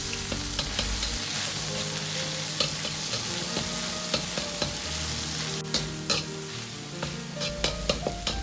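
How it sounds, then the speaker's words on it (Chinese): Minced meat stir-fries in a wok with Sichuan peppercorns, a steady close sizzle broken by repeated scraping clinks of the spatula. "接着下入肉末，煸炒出香味。"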